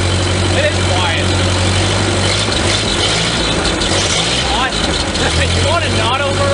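A 1939 Ford 9N tractor engine idles close by with a steady, low, even hum that holds throughout, while people talk over it.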